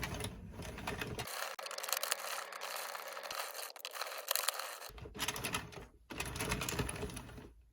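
Circular knitting machine cranking out rows of plain stitches, a busy clattering mechanical ratchet of needles and gears heard up close, running in bursts with a brief pause near the end.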